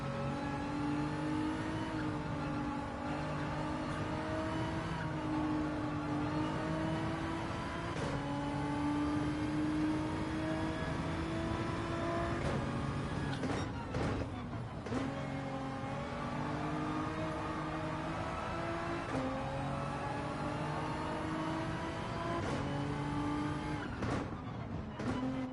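Race cars lap in Gran Turismo 7 with a steady, loud engine drone that rises and falls through gear changes and braking, sometimes dipping sharply before climbing back, with no voices over it.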